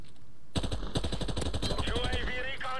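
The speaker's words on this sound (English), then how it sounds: "Oh, I forgot about the headshot sound too" Automatic gunfire in Call of Duty 4 rattles in rapid, evenly spaced bursts after a moment of quiet, loud and close, with a bright metallic hit marker ringing over the shots near the end.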